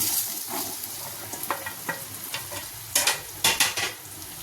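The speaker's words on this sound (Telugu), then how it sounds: "ఇప్పుడు ఇందులోకి పసుపు పసుపు వేసి కలుపుకొని బెండకాయ ముక్కలు వేసేసుకుందాం" Okra pieces fry with browned onions and turmeric in a pan, a soft continuous sizzle punctuated by sharper spatula scrapes and clatters that cluster in the second half.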